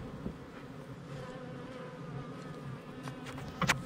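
A steady, dense drone of many honey bees buzzing close by around a horizontal Layens hive on a warm afternoon, continuous throughout with a few brief louder passes near the end.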